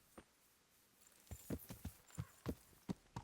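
A horse's hooves clip-clop in the Kingdom Come Deliverance video game, sparse at first, then settling into a regular walking rhythm of distinct, fairly close hoof strikes.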